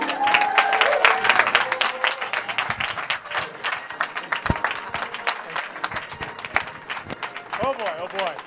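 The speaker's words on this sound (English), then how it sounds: "Let's have a big round of applause for Dr." An audience at the Functional Forum, a functional medicine conference, applauds as Dr. Jeffry Bland is introduced. The dense clapping is loudest at the start and thins out over the following seconds, with scattered crowd voices.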